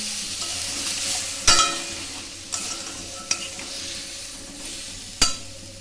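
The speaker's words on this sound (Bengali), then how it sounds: "এবার আমি মশলার বাটি ধোয়া জল দিচ্ছি।" Chicken stew in a pan sizzling steadily while a spoon stirs, with a few sharp clanks of utensil on metal spread across the close, continuous frying hiss, no voices.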